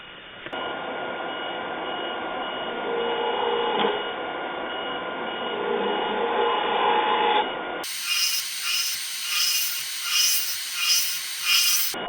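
A wood lathe spins as a round-nose tool hollows out a wooden canteen, giving a continuous scraping, rasping cut that changes character near the end into pulsing, brighter scratches.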